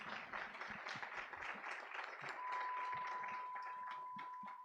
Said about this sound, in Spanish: otro aplauso más para la realización, por favor